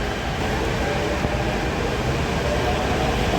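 A Delhi Metro train stands at Kirti Nagar station, with a steady loud rumble and hum of train and air conditioning running continuously throughout.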